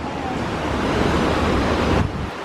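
Rushing water from a roaring river, a steady loud broadband roar filling the whole stretch without pause, with some wind buffeting on the microphone and no voices.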